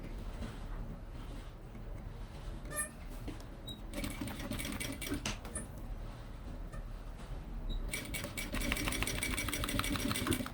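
A sewing machine runs steadily, binding bias tape around the edges of a zippered pencil case with a size 18 needle, a continuous close mechanical whir with faint ticking and a slightly louder stretch near the end.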